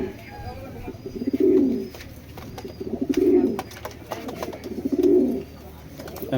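Black racer pigeons, a breeding pair, coo in three low, rolling bursts about a second and a half apart, fairly close, over a steady background hum.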